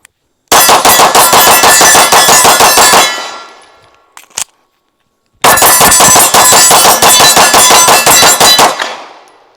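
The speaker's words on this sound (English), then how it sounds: "So I'm just going to keep shooting until I can't shoot anymore, until I run out of ammunition." Springfield Armory Prodigy pistol fired rapidly at steel targets on an outdoor range: two long, very loud bursts of rapid shots with metallic clangs, separated by a brief pause with a couple of faint clinks.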